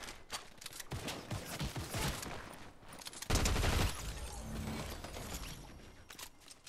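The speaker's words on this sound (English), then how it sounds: "Hit him with a sniper." Rapid bursts of gunfire and sniper rifle shots in a shooter game with a Jackie character skin, dense mechanical clatter peaking in one loud close shot, then continuing busy game noise.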